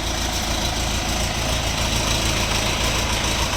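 An Orion RF404 tractor engine idles steadily with a dense, unbroken low rumble and no pauses, close and moderately loud, with no voices.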